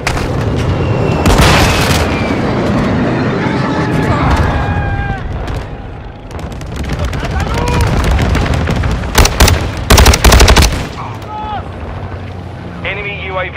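A missile launches in Call of Duty Modern Warfare II multiplayer, with a roaring whoosh and booming blasts layered over constant wind, gunfire and explosions, and radio voice callouts throughout.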